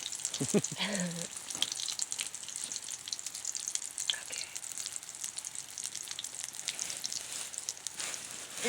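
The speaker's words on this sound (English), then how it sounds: "Who would have thought frying pancakes would taste so good with fish?" Steady soft sizzling of pancake batter frying in a pan, continuous and close, with a brief faint voice near the start.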